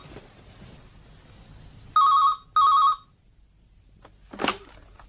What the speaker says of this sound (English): Just let me answer this phone